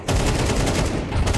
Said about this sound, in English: Oh, there's some gunshots.